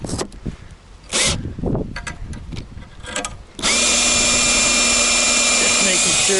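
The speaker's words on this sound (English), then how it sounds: "Okay, so we're going to pre-drill that." A power drill whines loudly and steadily, pre-drilling a hole for an industrial cart table, after a few seconds of scattered clattering and handling noises.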